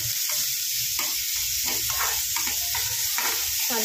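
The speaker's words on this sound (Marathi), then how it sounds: "हा कांदा चांगला परतू द्या" Onion and red ground masala paste sauté in a pan for a restaurant-style paneer and green pea curry, giving a steady close sizzle with occasional stirring scrapes and no talking.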